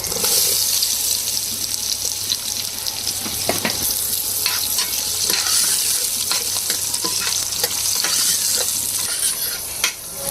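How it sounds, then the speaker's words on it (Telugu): Two large-cut onions fry in a little hot oil in a pan, giving a continuous close sizzle with scattered clinks and stirring clatter throughout, and no speech. "ఇప్పుడు ఆయిల్ వేసి, ఇదిగోండి కొంచెం ఆయిల్ వేసాను. ఇదిగోండి 2 ఉల్లిపాయలు ఇలా పెద్దగా కట్ చేసుకుని ఫస్ట్ వేగించాలి"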